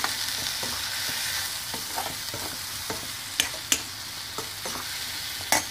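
Chopped elephant foot yam with cumin powder is sautéed in a pan, a steady frying sizzle running underneath while a spoon stirs and scrapes, giving scattered sharp clicks against the pan.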